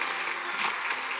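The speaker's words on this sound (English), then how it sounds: "An apparent unbeliever splits a log in half on the road, earning enthusiastic applause from the crowd." A video game crowd applauds enthusiastically, a dense, steady patter of clapping that is fairly faint and continuous for a moment.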